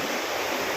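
Flood water rushes in a dense, steady roar, close and loud, filling the short moment with broadband turbulent noise and no voices.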